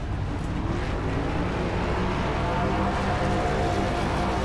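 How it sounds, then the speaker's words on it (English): Race car engines rev on pit road at Daytona during a racing league event, a dense and steady roar of several motors that holds at one level, with no voices over it. "See the engines, hear the engines revving there."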